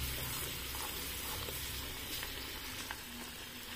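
Cumin and Kashmiri chili stirred in a hot pan for mango pickle, a dense continuous sizzle and crackle throughout, loud and close with no speech.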